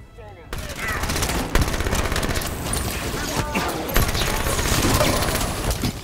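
Rapid automatic gunfire from a gun in the video game Halo 5, blue team mission, a steady loud stream of shots with occasional heavier hits, a voice talking over part of it.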